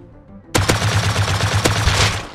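Gunfire in the survival game Rust: a sudden loud burst of rapid automatic shots opens the clip after a quiet moment, followed by a sustained steady rattle with a few sharper cracks standing out.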